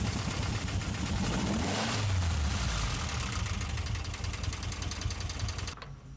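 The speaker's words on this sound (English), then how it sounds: "The loud clacking sound you just heard was traced to a loose crank gear." A rebuilt VW 2332cc stroker engine with a loose crank gear runs rough, a loud steady engine roar with a fast, rattling clack running through it until it cuts off near the end.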